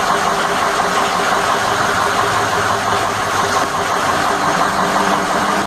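A Ford 6.0L diesel truck engine, just repaired with a new engine harness and number one injector, runs at a steady, close, loud idle with an even clattering rumble throughout before cutting off abruptly.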